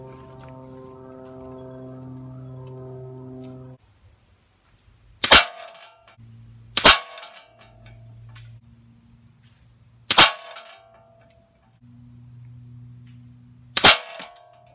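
A QB78 air rifle fires at a target 25 yards away, with four sharp, loud, close shots spaced a few seconds apart and quiet pauses between them.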